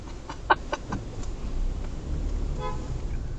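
A short bus horn toot rings out over steady traffic rumble on a UK road, followed by a few fainter beeps a moment later.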